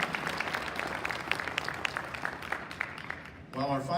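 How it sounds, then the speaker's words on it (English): At a live mining competition event, a round of audience clapping runs with distinct individual claps, then fades as a voice starts speaking near the end. "Round of applause for Team Mind to Me."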